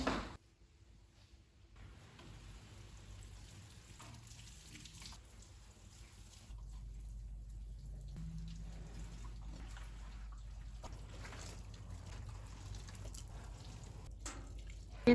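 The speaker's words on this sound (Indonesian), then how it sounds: "Kita sambil siram pohon ya guys." Water trickles and drips steadily as garden plants in the Netherlands are watered in the evening, a soft continuous pour with faint background hum and no talking.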